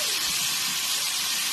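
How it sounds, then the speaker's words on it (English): Carnitas meat searing in a hot skillet, a loud, dense, unbroken hiss and sizzle heard up close with no talking. "how it sears the meat"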